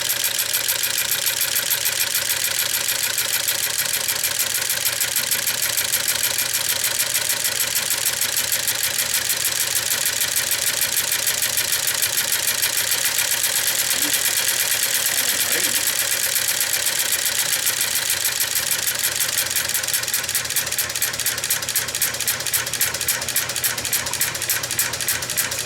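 A rare 1908 Matheson automobile engine with make-and-break ignition runs slowly at low RPM, a steady close mechanical drone with fine rapid ticking throughout and occasional faint background sounds.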